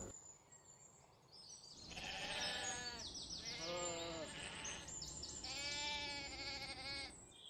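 Sheep in a mountain flock bleat repeatedly in wavering, overlapping calls, loud and close, after a quiet opening with no talk.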